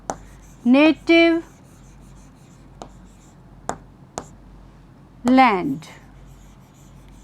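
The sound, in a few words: writing on a board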